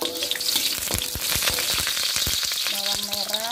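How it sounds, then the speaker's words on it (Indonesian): Garlic sautéing in a hot pan gives a loud, steady sizzle and crackle with rapid popping, and a utensil stirring through it now and then, close and without any speech. "Tumis bawang putih."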